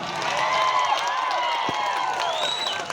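A stage-show audience applauds and cheers with a dense, continuous wash of clapping and crowd noise, loud and sustained, with tonal voices or music threading through it.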